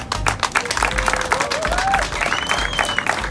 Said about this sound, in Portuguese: uma salva de palmas então para as três finalistas